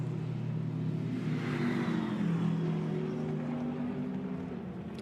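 A GT race car at the Zandvoort circuit drones steadily past, its engine holding a continuous mid-distance roar with a slight rise and fall in pitch and no voices over it.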